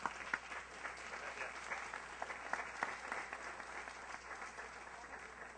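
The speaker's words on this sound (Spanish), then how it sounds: "Le brindamos un fuerte aplauso nuevamente" A book presentation audience gives faint, distant applause. The steady wash of clapping has a few sharper claps standing out now and then, and it continues evenly throughout.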